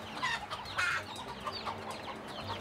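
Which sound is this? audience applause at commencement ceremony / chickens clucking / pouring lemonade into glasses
chickens clucking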